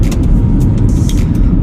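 A 2005 Honda CR-V facelift, an automatic SUV, driving along, apparently on a toll road: a loud, continuous rumble of engine and road noise from inside the cabin.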